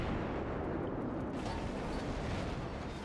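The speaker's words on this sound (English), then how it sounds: "our volley from HE will still kill the Kuma" Continuous heavy rumbling gunfire from warship HE shell volleys in the naval combat game World of Warships, a dense, loud, sustained wash of booming blasts with no clear separation between shots.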